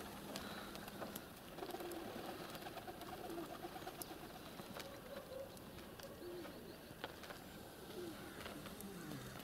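Pigeons cooing in the snow, soft repeated coos at moderate distance over a faint rustling background, with scattered clicks and flutters and no talking.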